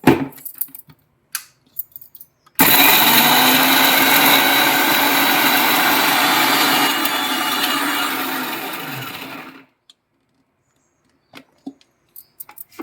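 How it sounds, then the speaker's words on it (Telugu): A mixie jar grinds garlic and tomatoes into masala for a bottle gourd curry at home: a steady whirring roar for about seven seconds, close and loud. It starts abruptly and winds down, with faint clicks before and after. "మూత వేసుకొని మనం మిక్సీ జార్లో వేసుకొని గ్రైండ్ చేసుకుందాం."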